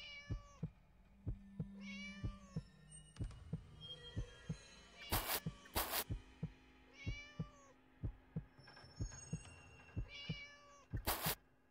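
Cartoonish cat meows from the video game Scary Teacher 3D, several short mewing calls spread across the clip amid soft rhythmic thumps and brief bright bursts of game effects.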